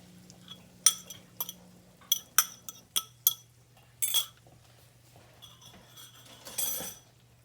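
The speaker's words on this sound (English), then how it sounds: "I'm using a spoon on my cast iron." Metal spoon against a cast iron pan while scrambling eggs into sausage, a series of sharp, separate clinks and scrapes at an irregular pace, fairly quiet against a low steady hum.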